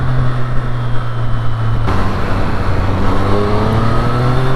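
A 2023 Triumph Street Triple RS motorcycle engine hums steadily while being ridden, loud and close, its tone rising in pitch around a gear change partway through, with no talking.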